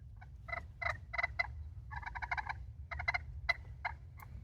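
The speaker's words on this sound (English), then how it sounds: "It makes yelps, it makes good yelps. That's the slate call." Slate turkey call made of petrified wood, struck to produce a series of sharp raspy yelps in short bursts and clusters, close and clear over a quiet background with no talking.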